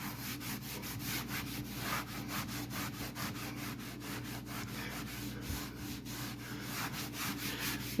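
A joint on a drywall wall is wiped down to smooth it without sandpaper, giving steady rhythmic rubbing strokes, close and continuous, about two or three per second, with no voices.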